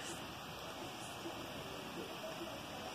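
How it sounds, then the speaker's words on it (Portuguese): Small waterfall on a forest creek in Atlantic Forest at Vargem Alta, a steady broadband rush of falling water, continuous and fairly close, with no talk. "Tem outra quedinha d'água."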